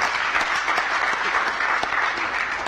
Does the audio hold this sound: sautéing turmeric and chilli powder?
no